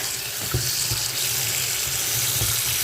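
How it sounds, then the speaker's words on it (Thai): Cold water streams steadily from a kitchen tap into a sink while mushrooms are being rinsed, a continuous close hiss and splash with no talking. "อันนี้คือน้ำเย็นในก๊อกเลยนะคะ"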